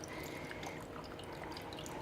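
Green candy apple margarita topped with apple soda poured over ice in a glass, a steady liquid trickle and fizz running continuously, close and fairly quiet.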